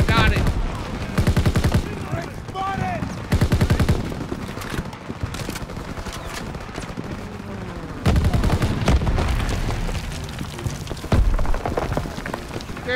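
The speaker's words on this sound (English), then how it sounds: "AA guns." Anti-aircraft guns firing in Call of Duty WW2, with heavy repeated booming bursts and rattling fire layered through a loud battle scene, while voices talk over the action.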